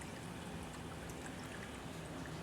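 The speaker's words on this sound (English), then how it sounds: "And so the water's draining." Water draining through a bell siphon in a basement aquaponics tank, a soft, steady pouring trickle heard alone, faint and unbroken throughout.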